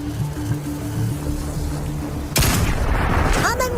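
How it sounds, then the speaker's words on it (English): Gunfire in Marvel's Deadpool VR erupts suddenly partway through, a dense, loud crackling volley following a stretch of low droning background sound, with a short whistling sweep near the end. "shooting, shooting!"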